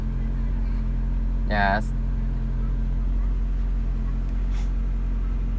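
A 1992 Honda Accord engine idles at about 1200 RPM, giving a steady low hum. Near the middle a person briefly says one word over it.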